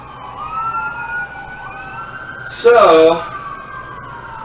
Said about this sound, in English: There's another siren. As I was saying, you hear that a lot here in the downtown area.